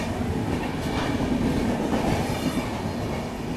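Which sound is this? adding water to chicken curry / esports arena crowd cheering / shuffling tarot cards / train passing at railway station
train passing at railway station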